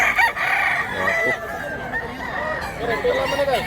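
A nearby rooster crows loudly in one drawn-out call at a chicken seller's in Cebu, with voices talking over and around it.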